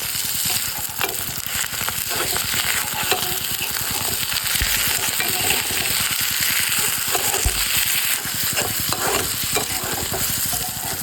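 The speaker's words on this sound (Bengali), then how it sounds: "শেষে দিয়ে দেব ধনিয়া পাতা কুচি। সুন্দর মতো নেড়ে নিচ্ছি।" Mashed potato with chopped coriander leaves stirred in a pan, a continuous dense sizzle with rapid, closely spaced scraping strokes of a spoon, loud and near with no talking.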